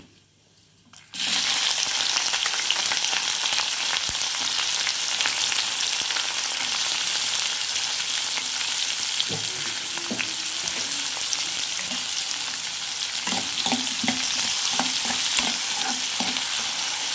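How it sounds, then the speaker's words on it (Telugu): Onions sizzle steadily in hot oil in a pan, with dried red chillies already fried, a continuous close frying hiss with occasional stirring clinks and scrapes, starting after a brief quiet moment. "ఆనియన్స్, ఉల్లిపాయలు వేయాలి."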